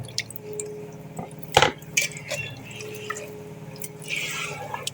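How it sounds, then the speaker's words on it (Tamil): Water poured into dosa batter in an Indian home kitchen, a few close, soft drips and splashes with a wetter pour near the end, quiet and with no talking. "கொஞ்சம் தண்ணி விடுறேன்"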